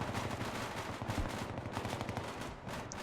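Rapid gunfire and explosions in a military shooter game, dense overlapping bursts of shots filling the whole stretch at steady loudness, with no speech.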